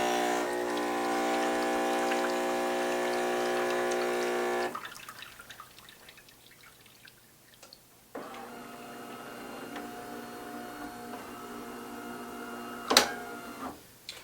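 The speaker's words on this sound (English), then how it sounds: "you would shut the machine off, and you'll see it's going to do a rinse cycle" DeLonghi Magnifica 3300 espresso machine running its shutdown rinse cycle: a loud steady pump hum for several seconds, then quieter dripping and clicking, then a softer pump whir resumes, with a sharp click near the end.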